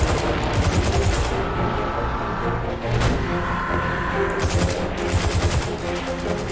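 Rapid automatic gunfire in the video game Destiny 2, continuous dense bursts of shots over about six seconds, loud and close, with faint game sounds mixed underneath.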